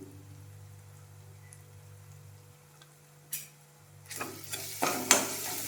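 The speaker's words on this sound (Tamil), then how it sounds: "நல்லா மிக்ஸ் பண்ணிக்கலாம். ஒரு 2 மினிட்ஸ்க்கு நல்லா வதக்கிக்கோங்க." Semiya masala being stirred and sautéed in a pan with chilli powder and spices, soft scraping under a low steady hum, then louder sizzling and spoon scrapes building near the end.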